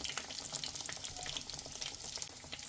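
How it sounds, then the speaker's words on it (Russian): Belyashi meat pastries frying in oil in a pan over medium-low heat, a dense continuous crackle and sizzle up close, with no voices. "Жарим с одной стороны 3-4 минуты до золотистой красивой корочки."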